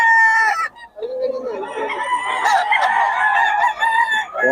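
A bull stag rooster crows loudly and close by, one drawn-out call that breaks off, followed by clucking and more ragged crowing.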